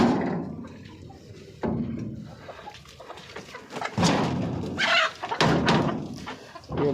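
Desi chickens inside their coop on a cold winter day, several hens clucking and squawking nearby in irregular bursts, with occasional rustling between calls.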